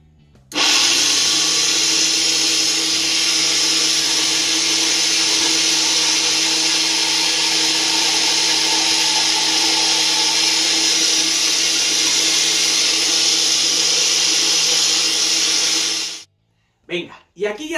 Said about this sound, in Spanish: voy a empezar a triturar despacito y despacito voy a añadirle lo que es el aceite